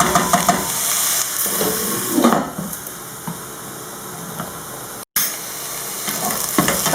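Aubergine sizzling steadily in a hot pan while being stirred, a loud continuous frying hiss with occasional scraping stirs and one brief cut in the sound.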